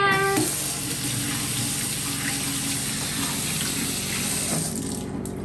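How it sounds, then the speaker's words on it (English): Tap water runs steadily into a kitchen sink while hands are wet during sourdough bread shaping, a continuous close splashing flow that stops near the end. "So, right now we're gonna wet our hands."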